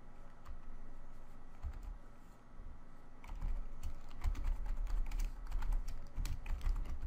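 Rapid clattering keystrokes on a computer keyboard while text is edited in Microsoft Word 2019, close and steady throughout with a brief lull before busier bursts of typing in the second half.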